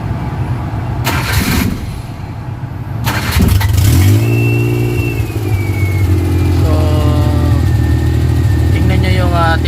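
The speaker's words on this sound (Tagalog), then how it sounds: "So ang gagawin natin, papandalin natin yung makina." A Suzuki F6A engine with electrical faults cranks, catches and settles into a steady, fairly loud idle with rising tonal whine, preceded by a few clunks and short bursts of noise.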